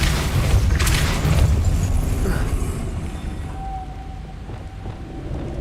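A Depulso spell blast in the video game Hogwarts Legacy hits as a loud, booming burst that rumbles and then slowly fades into a softer hiss over several seconds.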